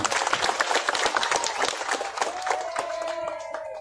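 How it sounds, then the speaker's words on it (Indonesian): Audience at a Kampung Akuarium public housing event in Jakarta applauding the residents, a crowd of many clapping hands with some voices, thinning toward the end as a voice rises over it. "Kita tepuk tangan untuk mereka semua"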